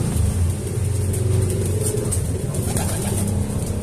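A breeder pigeon in a loft gives low, repeated cooing over a constant deep rumble of background noise. The calls sound close and fairly loud, and no one speaks.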